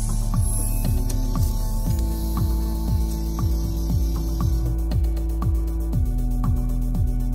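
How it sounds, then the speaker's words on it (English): A DMG MORI LaserTech 65 3D additive manufacturing machine with a powder nozzle runs steadily: a constant low hum under regularly repeating gliding servo whines, with quick mechanical ticks and clicks throughout. "With the new developed LaserTech 65 3D, DMG MORI enlarges the powder nozzle series with a pure additive manufacturing machine."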